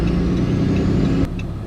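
Dodge truck with a 68RFE automatic transmission pulling through gears under light throttle, a steady mid-pitched engine drone that drops abruptly near the end as it shifts, heard from close by.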